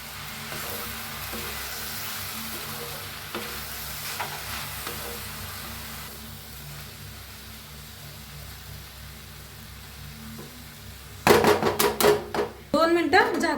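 Drumstick leaf vegetable cooking in a pan, with a long stretch of quiet low background before loud, close stirring and scraping bursts near the end.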